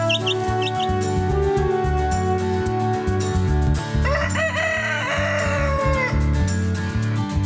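Cartoon chickens on a village chicken farm, clucking and crowing over a busy, rhythmic music bed, with loud, repeated fowl calls standing out in the middle.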